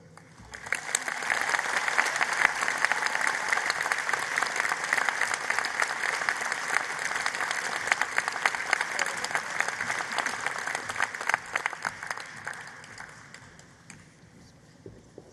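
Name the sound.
graduation audience applause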